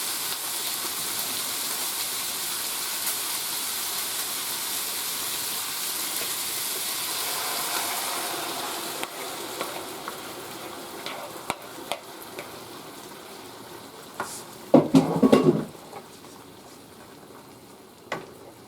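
Pork chops simmer in a skillet as sauce is added and stirred in with sautéed onions and garlic, a steady frying hiss with scattered utensil scrapes and a brief louder clatter near the end.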